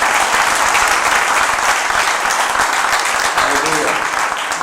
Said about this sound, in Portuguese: Vamos receber eles aplaudindo Jesus